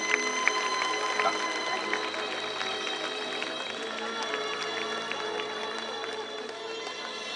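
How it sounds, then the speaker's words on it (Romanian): Audience at a cultural and artistic event for education workers applauding as young kindergarten children leave the stage, steady dense clapping throughout with some voices mixed in. "Copilașii pleacă, dar dați-le aplauze."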